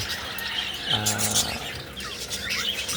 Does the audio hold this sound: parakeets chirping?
yes